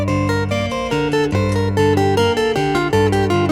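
Chapman Stick tapped through four-note diatonic patterns stepping downward from each degree, a brisk even run of bright sustained notes played solo and close.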